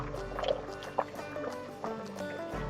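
Tomatoes are lowered into a pot of boiling water, with soft plops and gurgles over a low background hum, close up.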